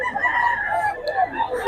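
A rooster's crow at a Bocaue tiangge market, one drawn-out call lasting under two seconds, fairly loud and close, with market noise around it.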